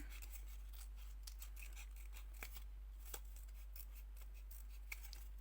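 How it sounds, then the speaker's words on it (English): Scissors snip through a paper circle toward its center, a steady series of quiet, crisp cuts with a few sharper clicks, close and alone over a low steady hum. "we will need with our scissors to do in this way. We will cut in this way till the center"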